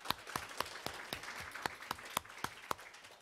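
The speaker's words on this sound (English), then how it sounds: "could we applaud our speakers here for their excellent job in talking?" Audience at a talk on making food safe and sustainable in China applauds the speakers, sparse distinct claps from a small crowd, soft and roughly even in rhythm, no voices.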